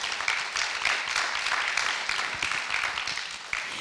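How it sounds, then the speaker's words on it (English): An audience applauding at a candidate forum hosted with a nonprofit digital newsroom, a steady wash of many hands clapping that stays fairly even in level across the moment, with no talking over it. "Let's have a round of applause for them."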